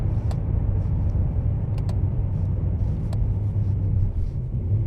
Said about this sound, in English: you can hear it's almost like a misfire, but that is actually the DCT now trying to adapt